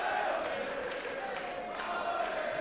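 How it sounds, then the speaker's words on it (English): A boxing crowd roars steadily to urge on a fighter named Hardwick, a dense, continuous wash of cheering and shouting that stays loud throughout without a break. "the crowd is trying to urge Hardwick on."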